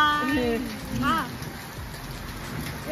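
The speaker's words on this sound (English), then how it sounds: "it's raining." Rain falls outdoors as a steady broadband hiss, with a voice speaking over it near the start.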